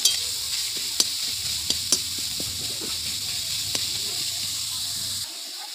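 Chopped radish sizzles and hisses steadily in a hot pan while being stirred, with a few sharp utensil scrapes and taps over the continuous frying noise, fairly close.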